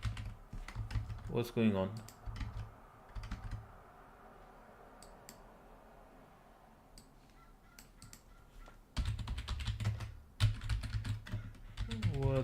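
Keyboard typing during a Linux terminal session, clattering close in bursts at the start and again toward the end, with a quieter stretch between and a voice briefly speaking over it.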